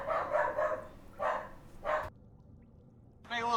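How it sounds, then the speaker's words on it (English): A dog in a digital card game gives a few short, mid-pitched barks in quick succession, then a pause of silence and another brief bark at the end. "Karn's barking."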